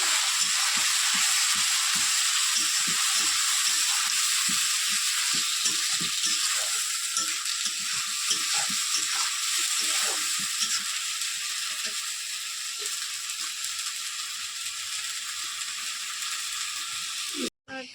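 Rohu fish sizzles steadily in hot oil with masala, garlic, onion and cumin, a dense broadband frying hiss with scattered pops and crackles throughout, close and loud, cutting off abruptly at the end.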